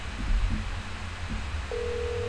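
A telephone rings in the game That's Not My Neighbor, a single steady electronic tone starting late and holding, over low background hum and faint earlier beeps.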